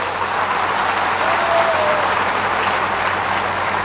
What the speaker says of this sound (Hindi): जोरदार एक बार ताली तो बजवा दीजिए।